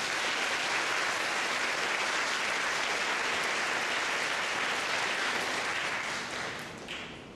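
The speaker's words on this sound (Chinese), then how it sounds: "也请给福特营销部掌声好吗？" An event audience applauds Ford's marketing team, a dense sustained wash of clapping that holds steady and then tapers near the end.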